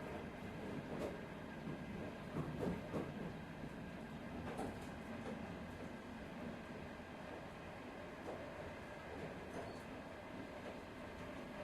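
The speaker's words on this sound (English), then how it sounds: "I am also taking the train." A train riding along in the VRChat game, with a steady low rumble and rattle throughout and occasional faint clicks and squeaks, no talking.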